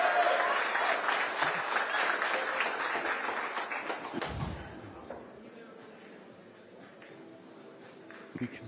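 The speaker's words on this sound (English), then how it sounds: "You can hear the enthusiasm of the hometown crowd behind him." A hometown crowd at a professional billiards tournament applauds steadily for several seconds, then the clapping thins and dies away into the hum of a hall where other matches are being played.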